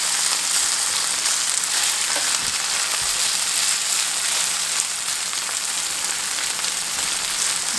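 Okra frying in a pan, a dense, steady sizzle and crackle close up throughout, loud and even, with no talking.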